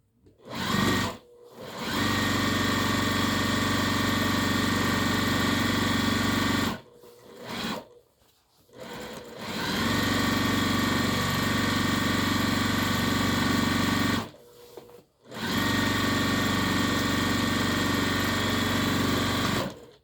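A sewing machine runs a second row of stitching along an apron hem on fabric about 44 inches wide, in three long steady bursts separated by brief pauses, loud and close with no talking.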